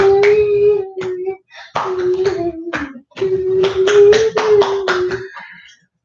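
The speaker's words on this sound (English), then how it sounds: "D'Alessandro, calm down on the clapping." Hands clapping at bedtime, a run of sharp, irregular claps in three short bursts, heard close and under a steady sung or hummed voice.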